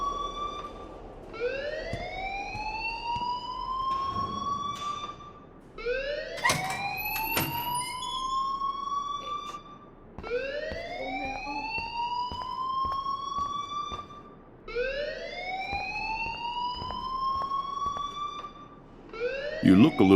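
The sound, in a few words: school alarm ringing in Life is Strange video game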